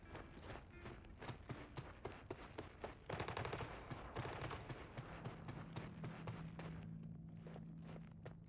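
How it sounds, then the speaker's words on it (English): Gunfire echoing through the open streets of Dogtown in Cyberpunk 2077, a rapid run of sharp cracks and bursts that carry on, with a low ambient drone coming up toward the end. "you hear gunshots ringing in the distance"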